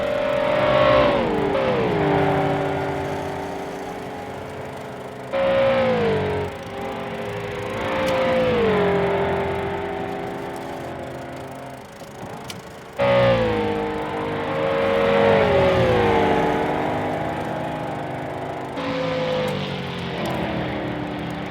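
Engines of 1955 sports cars racing in a sim at a Belgian circuit, including a 3-litre car, rise and fall in repeated passes as cars accelerate, shift and slipstream, loud and continuous with roaring revs swelling and fading.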